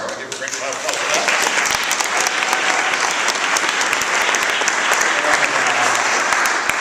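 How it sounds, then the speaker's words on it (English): A loud, sustained round of applause from the audience at a Letters About Literature awards ceremony, many hands clapping steadily and close with some voices in the crowd. "I give a great round of applause for that."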